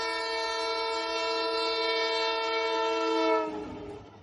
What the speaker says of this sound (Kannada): ಟ್ರೈನ್ ಬತ್ತನ್ ತೋಲಿ